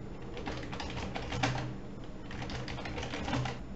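Keys tapped on a computer keyboard while a password is entered during a Debian 8 server install, a steady run of light, quick clicks with a couple of slightly heavier strokes, close and fairly quiet.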